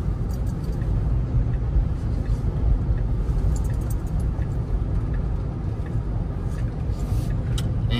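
A 2023 Tesla Model 3 LFP drives off a highway exit, with steady low tire and road rumble filling the cabin at moderate level and no voices.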